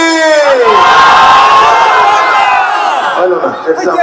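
A large crowd at an Islamic religious gathering roars back a loud, sustained unified shout in answer to a takbir call, with voices rising and falling together before breaking into scattered cries.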